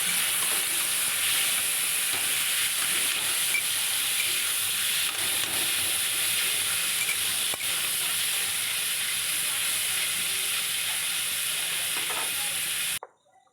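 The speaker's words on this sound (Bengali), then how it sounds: "আর এদিকে চিংড়ি মাছগুলো অন্য কড়াইতে আমি ভেজে নিচ্ছি" Shrimp fry in oil in a wok, giving a loud, continuous, even sizzle and hiss that runs steadily throughout before cutting off abruptly at the end.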